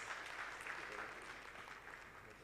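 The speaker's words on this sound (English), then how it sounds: "A very big round of applause to our" At an African quantity surveying conference, the audience gives the panelists a faint, sustained round of clapping, an even wash of claps heard from some distance.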